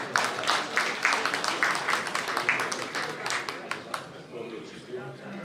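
Audience applause for a poet at a poetry gathering, steady rhythmic clapping from a modest crowd that fades slightly toward the end, heard at moderate distance.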